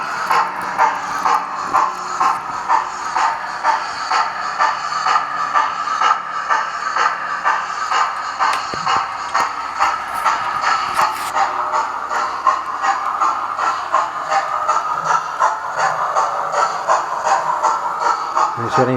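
A large model locomotive runs on a home model railway track, sticking on a corner: a steady, close whirring buzz with fast rhythmic clicking that continues throughout.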